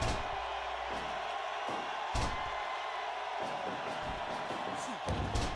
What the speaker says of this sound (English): The crowd going ballistic and has been doing so for the past 5-6 minutes